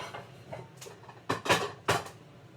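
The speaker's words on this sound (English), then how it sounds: "I'm going to put it in a cake pan." A utensil clatters and scrapes against a cake pan as coconut-flour keto birthday cake batter goes in: soft fumbling, then three sharp metallic clanks close by, with no talking.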